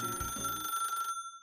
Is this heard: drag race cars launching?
no